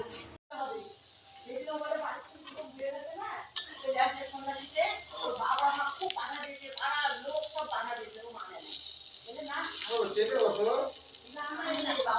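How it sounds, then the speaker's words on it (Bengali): Lentil fritters made from soaked pea lentils frying in hot oil give a constant bright sizzle while someone talks over it almost the whole time. "আমি এখন এক এক করে ভেজে নিব"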